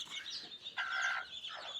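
Soft clucking and murmuring of free-range village chickens nearby, a few short calls and one longer, brighter note, fairly quiet overall.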